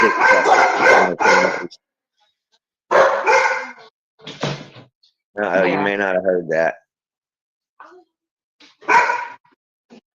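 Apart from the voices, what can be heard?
dogs barking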